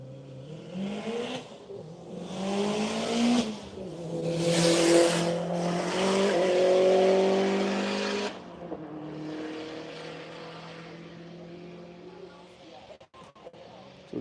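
A Subaru race car pulls away from the queue at the Hedge Hollow One Lap of America event, its engine revving hard and climbing through several gear changes with a touch of tire squeal before easing off into the distance.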